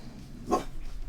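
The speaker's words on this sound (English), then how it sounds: "Sorry about my dog, if you guys can hear her barking." A dog barks once, a short single burst, at moderate distance indoors with a low background hum and no other sound around it.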